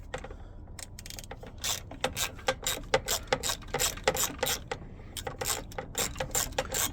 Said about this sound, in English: Got a really fine ratchet, these Milwaukee's.